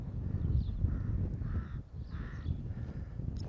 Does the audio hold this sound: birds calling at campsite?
yes